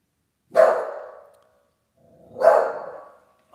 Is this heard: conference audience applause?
no